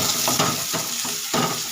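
Onions sizzle and crackle in hot oil, with rhythmic scraping strokes of a spatula stirring the pan.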